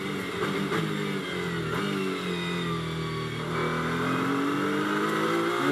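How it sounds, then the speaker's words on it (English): A V6-engined GT race car at Silverstone during Blancpain GT Series Endurance pre-qualifying drones loudly and continuously, its engine note climbing and falling through gear changes as it passes. "I think it's a good noise, isn't it? Oh, it's a lusty V6."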